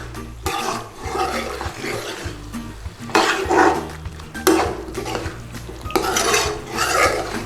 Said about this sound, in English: Quick stir.